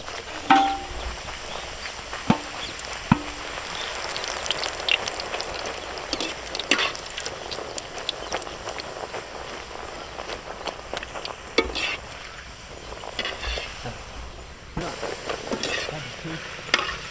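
Rolled puri dough frying in hot oil in a kadai, a steady dense sizzle with crackling bursts and occasional stirring clinks throughout, close and fairly loud with no talking.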